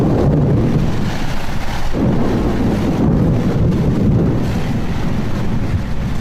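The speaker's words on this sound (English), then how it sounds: "a freak lightning storm breaks overnight" A freak overnight lightning storm at sea batters a boat with strong wind, a loud continuous roar of gusts and rumbling thunder filling the whole stretch without any voices.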